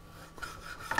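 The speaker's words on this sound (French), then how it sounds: "Et je vais couper mes tranches donc de poitrine, comme ceci," A knife slicing through pork belly on a cutting board into thick lardons, a close, quiet raspy scrape that grows into a brighter rub near the end.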